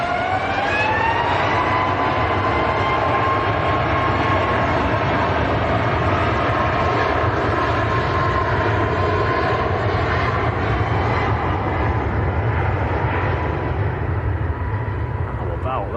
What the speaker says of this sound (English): And Ryanair's on the roll as well.